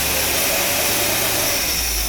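A loud, steady engine drone from a 1956 Cadillac Sedan DeVille, with a constant low rumble and quiet exhaust hiss, unchanging throughout like a motor left idling.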